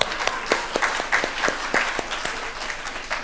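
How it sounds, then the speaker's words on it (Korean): A church congregation claps for a man, with distinct individual hand claps standing out over a lively, moderately loud round of applause that continues steadily. "그 양반 위해서 박수 한번 보내주세요."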